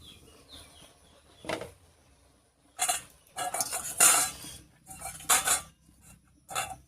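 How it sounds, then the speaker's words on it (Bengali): A pot lid comes off and boiled taro greens are drained of their cooking water, giving scattered clatters and metallic clinks of cookware at close range, with bursts of rattling between quieter pauses and no talking. "এবারে ঢাকা খুলে কচু শাকটা জল ছাড়িয়ে নিচ্ছি।"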